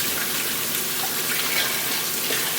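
Tap water runs steadily into a blender cup being rinsed after making a tropical protein shake, a continuous close splashing gush with no speech.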